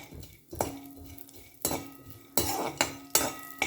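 Roasted gram tossed in a pan for an evening poha mixture snack, with a spoon scraping and clanking against the metal in several sharp, close strokes over a faint frying hiss.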